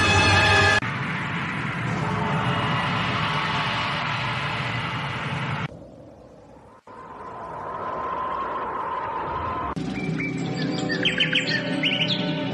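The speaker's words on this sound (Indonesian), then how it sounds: "Oh, suara burung itu bagus sekali" Bright bird chirps and tweets ring out as a radio drama sound effect, a continuous twittering over a hissy background that briefly drops out, then returns with clearer trilling notes; no talk.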